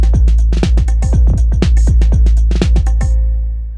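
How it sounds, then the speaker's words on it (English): Drum machine beat in Electro at 118 BPM with sub-step swing, a dense, loud pattern of punchy kicks and bright hits with irregular shuffled timing, played alone. "I have this beat pulled up, 118 sub-step swing."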